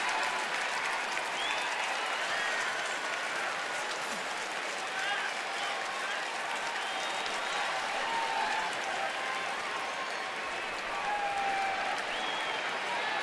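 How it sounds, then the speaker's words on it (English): A baseball crowd at a Phillies at Nationals game gives a small, steady round of applause, a continuous wash of clapping and cheering across the ballpark with a voice talking faintly underneath. "You hear that little round of applause, that little ovation from the crowd"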